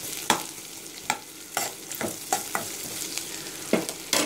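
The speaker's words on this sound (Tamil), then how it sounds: "ரெண்டு நிமிஷம் வதங்கினா போதும்." Potato masala sautés in a pan with a soft background sizzle, punctuated by a series of close scraping stirs at irregular intervals, about ten strokes in all.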